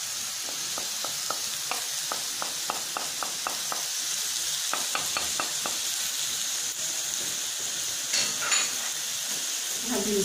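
Peppers sizzling in a hot pan alongside tomatoes, a continuous close frying hiss punctuated by rapid rhythmic utensil taps and stirring clinks.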